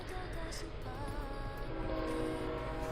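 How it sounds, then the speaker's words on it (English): A train passes on nearby tracks beside a home, a faint continuous rumble with a drawn-out tonal horn or wheel squeal sustained underneath. "sorry if you can hear the train, I just live right by the train tracks"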